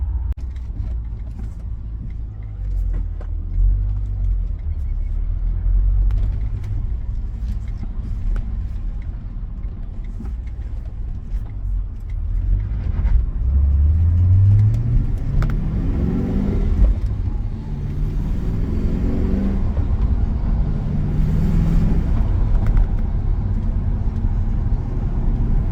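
Holden Monaro CV8 with a V8, extractors and manual gearbox, its engine rumbling steadily up close with a rise in revs midway and a deeper growl toward the end, no talk over it.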